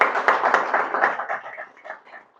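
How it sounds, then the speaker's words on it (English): A small audience claps at a Toastmasters club speech, a short burst of scattered hand claps that fades out over about two seconds. "So shall you clap for yourself?"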